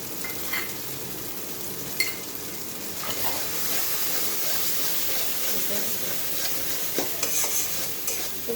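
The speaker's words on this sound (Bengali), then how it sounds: "ভাজা হোক ভালো করে" Banana stem and prawns sizzle steadily in a hot pan, with a spatula stirring and scraping at intervals, close and fairly quiet.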